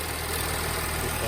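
Audi S4 B8 with a crackle tune and double pulley, its engine idling smoothly and steadily, a constant low rumble close by with no talking.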